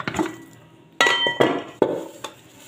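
Garlic cloves shaken in a covered pot to peel them give a few sharp, close metallic clinks and rattles, occurring in separate bursts with short gaps between.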